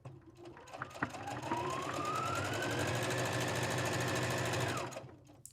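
A sewing machine runs steadily for about four seconds, stitching along a fabric seam with a rising motor whine, then slows and stops; no one talks over it.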